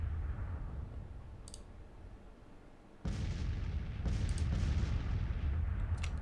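Cannon fire in the Civil War strategy game Grand Tactician, with a steady rumbling battlefield din that jumps louder midway as a heavy boom lands, followed by sustained distant artillery and crackling.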